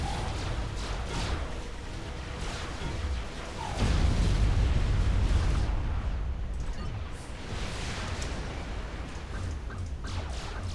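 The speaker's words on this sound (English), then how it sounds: "And their destroyers are shooting at me." Enemy destroyers shelling in the Supreme Commander strategy game, a rumbling mass of distant booms and blasts with a heavier thudding surge partway through, continuing as a steady low battle roar.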